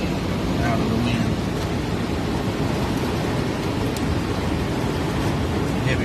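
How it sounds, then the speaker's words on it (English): Heavy rain falls steadily outdoors below a field during a storm after strong wind, a dense, loud, continuous hiss and patter with no talking. "Heavy rain right now."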